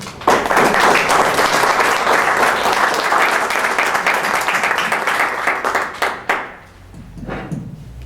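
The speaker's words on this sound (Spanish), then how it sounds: "recibamos con un aplauso al doctor Curiel Ballesteros" Audience applause welcomes a speaker to the stage, a loud burst of many hands that thins into scattered claps and dies away.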